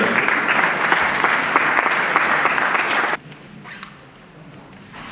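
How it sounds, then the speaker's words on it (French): Loud sustained applause from a gathering at a funeral service for about three seconds, then stopping abruptly and leaving a quiet room. "Pendant qu'elle s'approche, on acclame le Seigneur."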